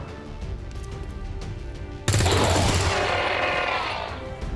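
A heavy machine gun from XCOM 2 opens up on a trooper, bursting in suddenly as a dense, continuous roar of rapid fire that holds loud over a low game background for a few seconds.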